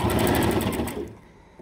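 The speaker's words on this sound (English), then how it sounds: "Alright, so I'm gonna go back stitch." A sewing machine back stitching, running steadily with a rapid mechanical whirring chatter for about a second before stopping abruptly, close and loud, no talking.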